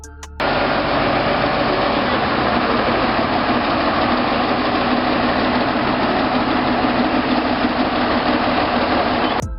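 A Soviet MAZ-537 heavy transporter's 38.8-liter V12 diesel runs steadily and loudly throughout, a dense low rumble with a rough, knocking edge and no pauses.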